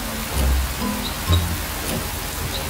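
Heavy rain pours down in a dense, steady hiss with scattered louder drops and faint low rumbles, filling the whole short stretch with no talking.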